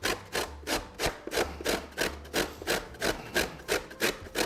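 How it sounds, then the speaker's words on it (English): Horseradish root rubbed on the fine side of a box grater, a steady series of about a dozen rhythmic rasping strokes, close and fairly quiet with no voices. "you can use a box grater using the fine side like you would grate cheese"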